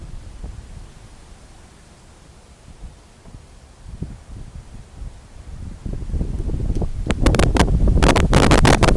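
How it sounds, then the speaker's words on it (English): Wind gusts batter an outdoor microphone, starting as a soft rushing and building to loud buffeting rumbles and sharp bursts in the final seconds. "these wind gusts are gonna knock over my camera"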